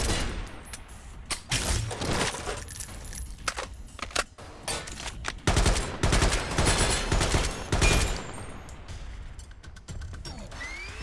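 Assault rifle fire in a video game, close and loud in repeated sharp bursts and rapid volleys with short pauses between, mechanical clicks mixed in, no talk.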